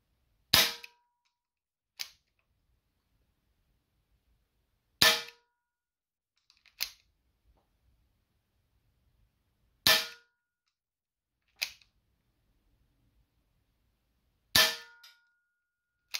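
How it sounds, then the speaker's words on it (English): A Colt Python CO2 airsoft revolver fires 6mm plastic BBs in sharp, loud single shots, each followed about a second later by a fainter impact click, repeating in an even rhythm. "Now let me show you just how powerful this Colt Python is."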